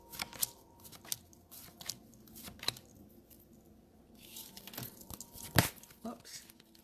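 Tarot cards being handled and picked, with crisp rustles, crinkles and snaps in small irregular bursts, close and fairly quiet, with a voice speaking at times.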